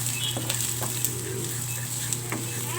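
Onion and crushed ginger sauté in a hot pan while being stirred, giving a steady close sizzle with faint scraping ticks throughout and no voices.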